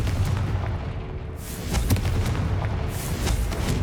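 Confringo explosive spell cast in the video game Hogwarts Legacy, a loud, booming blast with heavy low rumble and crackling bursts, continuous and close over roughly four seconds.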